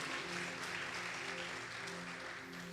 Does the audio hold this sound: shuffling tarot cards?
no